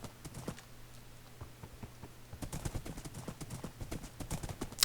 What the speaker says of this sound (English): Horses traveling on the water and not throwing you off.